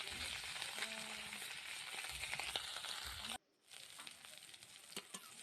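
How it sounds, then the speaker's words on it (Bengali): Salted, turmeric-coated small river fish frying in hot oil, a steady close sizzle and crackle that drops out briefly midway and then resumes. "এবার লবণ হলুদ মাখিয়ে গরম তেলে লাল লাল করে ভেজে নেব"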